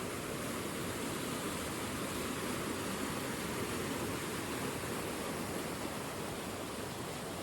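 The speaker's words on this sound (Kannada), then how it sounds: "ನಮ್ಮ ತೋಟ ಒಳಗಡೆನೇ ಒಂದು ಜರಿ ಫಾಲ್ಸ್ ಥರ ಇದೆ ಅಂತ, ಅಲ್ಲಿದ್ದ ನೀರಿದು" A small waterfall inside a Kodagu plantation rushes in a steady, dense, unbroken wash of flowing water, close and constant throughout with no other sounds.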